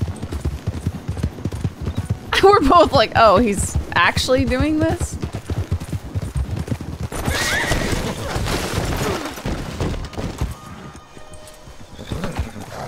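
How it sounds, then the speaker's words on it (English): Horses on a farm, with hooves clip-clopping and a horse whinnying loudly up close, alongside people talking and reacting nearby. "Look at all the horses."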